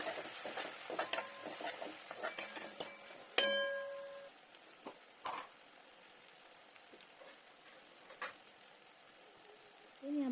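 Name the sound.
stirring spices in a pan while cooking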